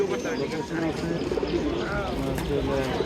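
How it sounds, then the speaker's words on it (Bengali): Pigeons coo amid the bustle of a busy traditional pigeon market in Fatullah, Narayanganj, their soft calls mixed into steady crowd chatter and people talking nearby. "এদিকে দেখতেছেন সুন্দর সুন্দর অনেকগুলো কবুতর নিয়ে আসছে ভাই আজকে হাটের ভিতর"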